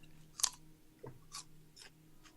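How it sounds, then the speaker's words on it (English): A crunchy carrot chewed close to the mic, a few sharp crisp bites and crunches spaced out over a couple of seconds against a quiet background. "I finished my incredibly crunchy carrot"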